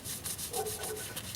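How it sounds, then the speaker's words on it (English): A wooden turned knob spinning against a paper towel on a drill press, a soft rhythmic rubbing swish that pulses repeatedly at low volume with no talking. "I do one final buffing right on the drill press"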